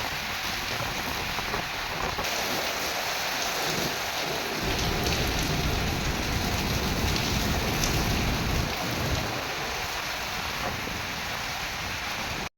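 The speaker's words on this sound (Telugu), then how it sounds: "దంచి కొడుతున్న దుబాయ్లో వర్షం" Dense, steady rain in Dubai hammers down continuously, a loud, unbroken hiss of downpour with no voices.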